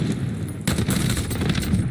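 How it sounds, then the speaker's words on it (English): Bullfrog SMG with no attachments fired in the video game Warzone, a quiet lead-in before a sudden sustained burst of rapid automatic gunfire, loud and close, with no talking. "So here we are testing a bullfrog with no attachments."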